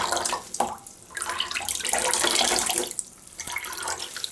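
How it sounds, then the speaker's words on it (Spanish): Water squeezed out of a freshly washed knitted garment pressed by hand, splashing and trickling in several close, fairly loud bursts with brief pauses between them. "vamos a presionar para botar el exceso de agua"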